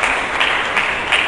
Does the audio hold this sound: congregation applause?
yes